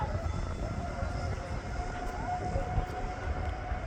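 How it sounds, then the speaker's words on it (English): An Etihad airliner's jet engines spool up as it starts its takeoff roll, a broad distant roar with a faint high whine over it, steady throughout and without talk. "Etihad waiting for its permission to roll, which I think it's just got."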